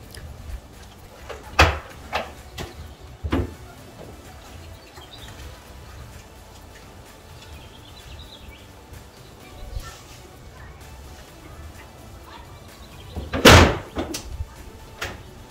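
A car trunk lid on two hinges with gas springs is lifted and lowered, giving a few scattered knocks and clunks and then a loud slam near the end, with quiet pauses between.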